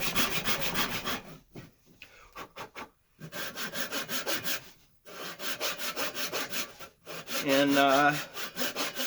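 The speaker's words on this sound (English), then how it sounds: "I'll get through the saw cut pretty quick," A hand saw cuts through a piece of wood in steady back-and-forth strokes, each rasping pass broken by short pauses, close and clear with a brief spoken word.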